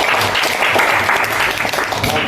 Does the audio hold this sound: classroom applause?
yes